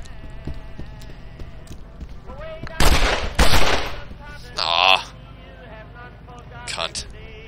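A few sharp gunshots crack out in the video game The Ship, spaced apart over a quiet backdrop of light game sounds, with a couple of louder blasts in the middle and a smaller one near the end.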